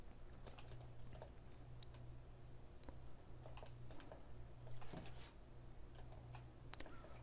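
Computer keyboard keys tapped for shortcuts while 3D modeling a whale-shaped fruit fork, heard as faint, sparse, irregular clicks over a low steady hum in a quiet room.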